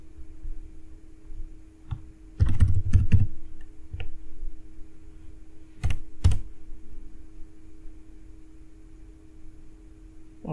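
A computer keyboard gives a few short clusters of keystrokes over a faint steady hum, with long quiet gaps and no speech.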